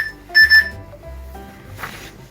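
Bright electronic beeps, two quick tones close together, then quieter low rumbling and a brief rustle.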